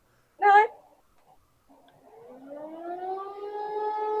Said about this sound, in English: Oh, it's a siren